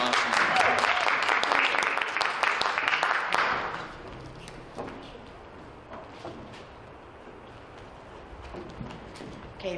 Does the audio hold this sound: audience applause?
yes